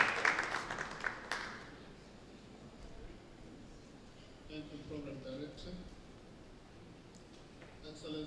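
Audience applause at the Innovation Africa Digital summit rings out strongly for about the first second and a half, then fades as a voice begins speaking over a quiet room.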